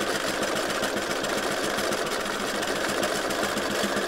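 Sewing machine with a circle attachment stitching round and round a pivot point, a fast, steady, close mechanical whirring and chattering that holds without a break.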